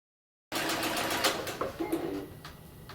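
A sewing machine runs steadily, chain stitching pinned fabric pieces for a pincushion without pausing between them, a continuous close whirr starting abruptly after a brief silence.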